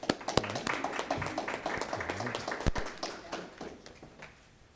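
Audience at an ISD 717 school board meeting claps after a member's oath of office, a short burst of scattered applause from a modest crowd that tapers off within a few seconds.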